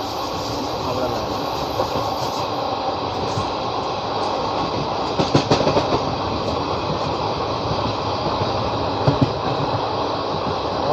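Indian Railways Sainagar Shirdi–Kalka SF Express running on the Bhopal–Delhi main line, with a steady close rolling rumble and wheel noise throughout, plus a few sharper clanks of joints around the middle and near the end.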